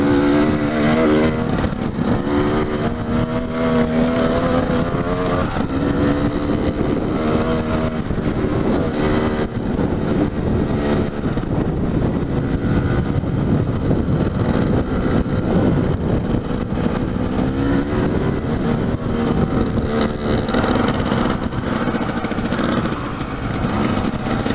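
Dirt bike engines droning steadily on a Colorado mountain trail pass, with strong crosswind buffeting roaring over the whole stretch, loud and continuous with slight rises and dips in engine pitch.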